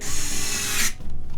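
A power drill or driver runs in one continuous whirring burst as screws go back into a device's front cover, cutting off abruptly and leaving a low hum behind, loud and close.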